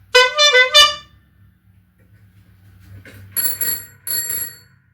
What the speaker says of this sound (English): you've got Christmas bells